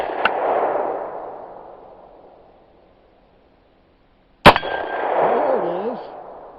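A sharp, loud gunshot from a Windham Weaponry SRC AR-style rifle chambered in 7.62x39 cracks once near the middle, followed by a ringing decay, with a quieter clank at the start and soft background noise.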